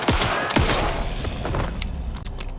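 A weapon fires in the Alan Wake II video game, a loud, booming blast with a rumbling tail that fills the space and decays slowly over a couple of seconds.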